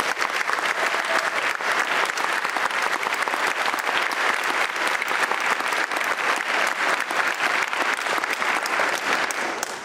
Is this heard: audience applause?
yes